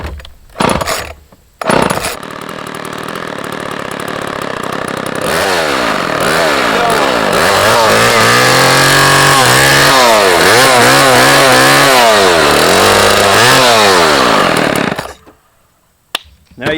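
A chainsaw starts with a couple of short pulls, then runs loudly up close, idling before revving up and down repeatedly. It cuts off near the end.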